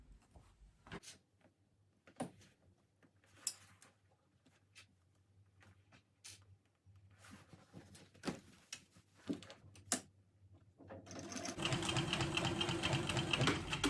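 A sewing machine back-stitches a crossbody bag seam with a quiet low motor hum and scattered sharp clicks, then breaks into a louder, denser run of stitching near the end.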